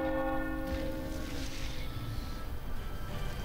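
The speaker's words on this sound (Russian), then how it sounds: "Колокол, это мы сейчас призовем много-много врагов." A bell tolls in the video game Alchemist Adventure, a loud, sustained ringing tone with a long fading hum over a steady backdrop of game ambience.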